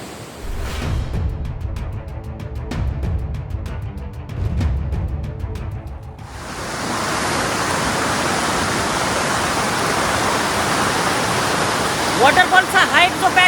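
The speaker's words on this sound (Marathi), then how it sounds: "हे सगळं पाणी असं वाहत येत आहे आणि या बाजूला जात आहे" Swollen stream water rushing past near Kalu waterfall after rain, a steady loud broadband roar that swells to full strength partway through and continues without a break.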